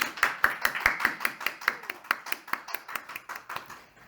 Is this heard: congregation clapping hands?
yes